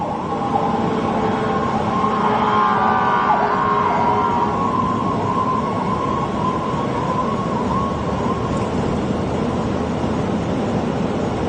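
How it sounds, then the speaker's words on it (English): A fire truck siren wails steadily in the distance beneath a constant roar of Hurricane Milton's wind, its tone faint and drawn out rather than close. "I hear a fire truck."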